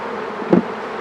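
Honey bees buzz around an open hive during an inspection, a steady close hum with one brief louder swell as a bee passes near.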